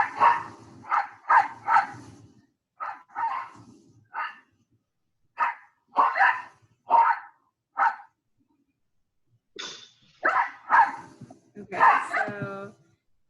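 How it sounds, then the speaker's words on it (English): Two dogs alarm barking in a series of sharp, separate barks with brief gaps, fairly close and loud, with a yip or whimper near the end and a short spoken word in between. "It's Niffy and Cthulhu alarm barking."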